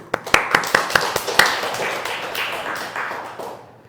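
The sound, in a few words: church congregation clapping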